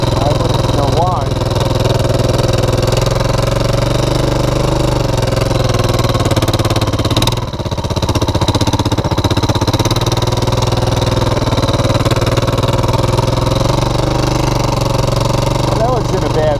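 A Honda TRX400 4x4 ATV engine runs steadily while being ridden, a loud, continuous mid-range drone that barely changes over its length, dipping briefly just once partway through.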